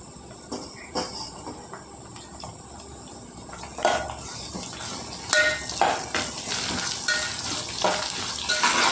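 Curry leaves and ginger frying in a pan while making hotel-style upma, a soft sizzle under intermittent clinks and scrapes of a spoon against metal cookware, growing busier in the second half.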